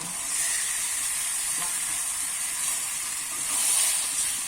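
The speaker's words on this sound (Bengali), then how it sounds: "এবারে কিন্তু চিকেনটা আমি দিয়ে দেবো ধুয়ে কেটে রাখা চিকেনটা দিয়ে দেবো" Chicken pieces frying in hot oil with an onion and spice masala, giving a steady, close, continuous sizzle and hiss for the whole stretch with no talking.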